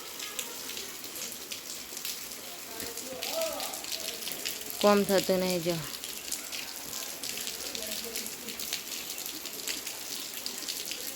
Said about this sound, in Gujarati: અને એક બાજુ વરસાદ ચાલુ છે જો.